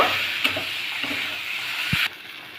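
Fried snails (geri) cooking with powdered spices in a pan, a continuous sizzle with a few stirring scrapes and a thud near the end before the frying noise drops sharply.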